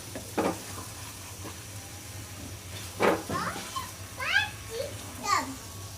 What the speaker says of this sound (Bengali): একদম ভাজা ভাজা হচ্ছে গা, তেল উপরে উঠাইছে